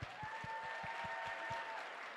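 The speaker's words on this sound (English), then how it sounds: "Let's go ahead, give them a round of applause." Steady applause from a pageant audience honouring scholarship recipients at the Miss Chinatown Houston Scholarship Pageant, a broad wash of many hands clapping throughout with a regular low thumping pulse beneath it and no speech.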